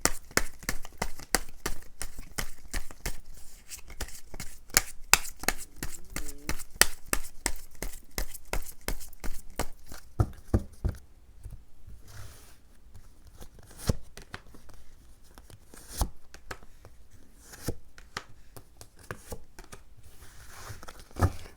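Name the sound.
tarot cards being shuffled and drawn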